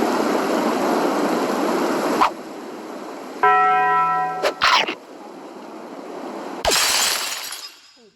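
A chiming bell tone rings out in a video game, with a short run of evenly spaced bright harmonic strikes set against a constant noisy game soundtrack, followed by sharp crashing bursts.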